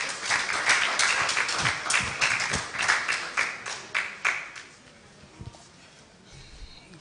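An audience at a plastics-industry launch event applauds with a dense patter of clapping that thins out and fades to scattered claps and quiet by the end.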